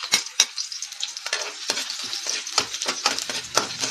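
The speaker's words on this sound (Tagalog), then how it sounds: "Lagyan natin ng mantika ang ating kawali. At ilagay natin ang bawang." Garlic sautéing in oil in a frying pan for sinigang na tilapia, with close sizzling and repeated scraping stirs in an irregular rhythm and no talk.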